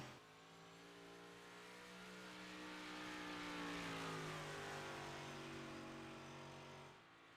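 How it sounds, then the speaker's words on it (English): A 358 modified race car at Bristol accelerates up to speed, its engine note climbing steadily in pitch and loudness as it pulls away, loud and sustained for several seconds with no talk over it. "Going to get that 11 car up to speed."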